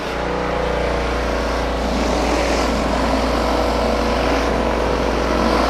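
A Ryobi RPW3200Y pressure washer runs steadily and loudly up close, a continuous motor-and-pump drone with a constant low hum that holds through the whole stretch and has no talk over it.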